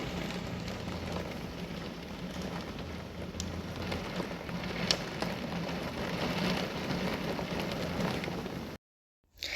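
Steady rain hisses outdoors in an Indian household setting, a dense continuous patter at moderate level that cuts off abruptly near the end.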